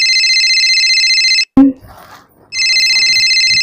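A telephone rings loudly and steadily in a home kitchen, a repeating electronic ringtone that cuts off abruptly, followed by a brief knock and faint rustling before the same ringtone resumes at full strength.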